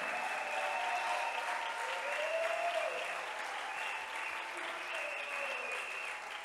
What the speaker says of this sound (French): If you are clapping, make it better.